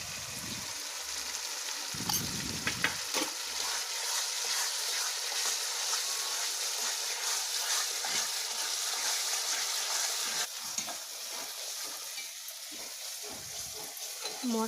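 Spice paste for a rui fish malai curry fries in a pan with a steady close hiss, broken by scraping and knocking as it is stirred and turned, with no talking.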